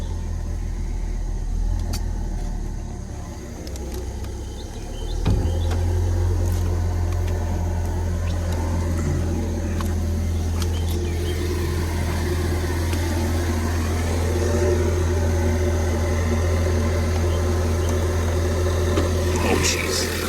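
A 2-liter four-cylinder car engine with a Roush air filter and six-speed manual idles steadily, a loud continuous low drone that holds nearly unchanged throughout, close to the microphone.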